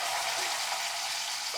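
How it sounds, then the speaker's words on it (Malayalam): Karimeen fish frying in hot oil in a home kitchen, giving off a steady, even hiss of sizzling with no talking over it. "മീൻ വറുക്കാനായിട്ട് മുത്തെത്തിയിട്ടുണ്ട്"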